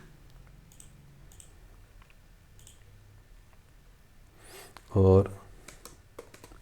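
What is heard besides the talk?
typing a name on a computer keyboard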